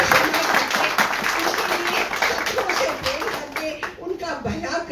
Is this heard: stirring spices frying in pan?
no